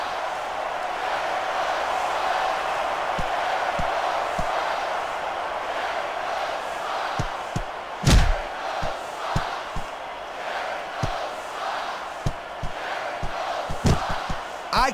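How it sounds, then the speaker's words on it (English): A wrestling arena crowd at a WWE Vengeance 2005 match roars in a steady wash of cheering, broken by sharp slams and thuds from the ring, with commentators talking over it. "I can't remember the last time I seen a crowd so pumped up"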